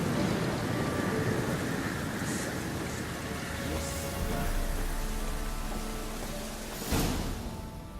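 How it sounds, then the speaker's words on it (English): Steady rain hisses continuously in The Witcher 3 game world, with a low rumble of thunder swelling midway and a brief sharper crack near the end, all fairly loud and without voices. "Looks like rain."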